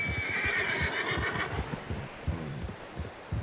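In the video game Red Dead Redemption 2, a horse lets out a loud whinny that trails off, followed by close, steady clip-clop hoofbeats continuing alone.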